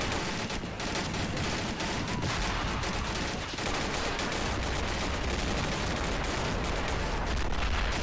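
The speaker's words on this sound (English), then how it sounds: "And then it's like shooting a machine gun. Even though it's just an automatic rifle." Automatic M16 rifle fire from a Plastic Army Men mod video game, a dense, continuous crackle of rapid shots and distant battle noise filling the whole span without pause.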